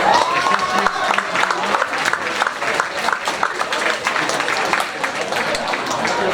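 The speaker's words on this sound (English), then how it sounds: "Give a round of applause." Audience applause at a high school winter sports awards night: a steady, dense patter of many hands clapping in an indoor hall. It lasts the whole clip at an even, moderately loud level.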